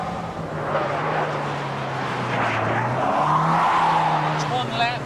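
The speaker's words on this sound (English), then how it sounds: "It's one lap at Thruxton circuit in a Montego Turbo." An MG Montego Turbo 2.0 laps Thruxton circuit, its engine note rising and falling as it brakes and downshifts through the chicane, with someone talking over the sound throughout.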